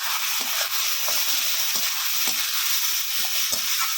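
Ground ginger, garlic, tomato and onion pastes frying in a pan while being stirred, a dense continuous sizzle with scattered scraping spoon strokes, close up and without speech.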